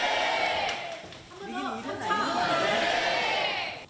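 Students hold a mock trial of Ahn Jung-geun in the old Kwantung court building and then cheer and wave Korean flags, making a lively crowd of excited voices and chatter that rises and swells close by.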